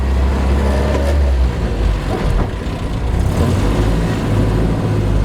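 A classic Mini van engine revs hard as the driver accelerates from first into second gear, a loud, steady, close-up roar with deep low rumble throughout and no talking.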